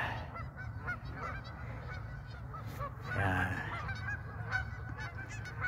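Geese honk at a lake, repeated nasal calls near and far over outdoor ambience, with one louder burst of honking midway.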